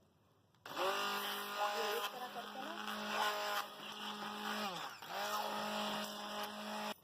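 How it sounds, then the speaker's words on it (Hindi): Loud high-pitched whirring of a hand blender pureeing sarson ka saag (mustard greens) in two long bursts with a short pause, its motor pitch wavering as it churns through the greens. "अब इसे हम हैंड ब्लेंडर कर लेंगे"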